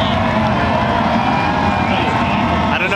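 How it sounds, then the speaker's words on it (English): A crowd roars wildly at a dirt track race at the Dirt Cup, with engine noise mixed into a loud, dense, unbroken wall of cheering. "I guarantee you the crowd goes wild."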